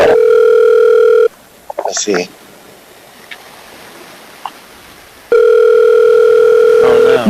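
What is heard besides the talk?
telephone dial tone during a phone call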